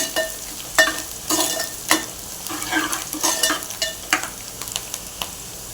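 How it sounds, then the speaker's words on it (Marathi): Onions with curry leaves fry in a pan for matki usal, a sprouted moth bean curry, with brisk spatula stirring: a soft sizzle under irregular, close scraping strokes and bursts of crackle. "हे पहा कांदाही आपण खाऊन घेऊया चांगलं मऊ होत शिजवून घेऊया"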